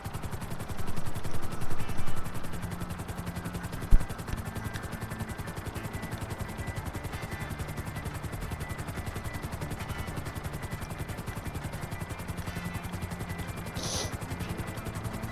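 A steady helicopter rotor in Grand Theft Auto V drones throughout, loud and close, with a brief sharp thump partway through and a short high tone near the end.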